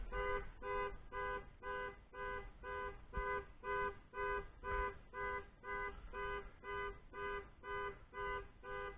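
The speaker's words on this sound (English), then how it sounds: "panic alarm off. The car's scared I'm working on it." A 2011 Dodge's panic alarm blares in a steady repeating horn-like pulse, about two beeps per second, loud and close throughout with no talk over it.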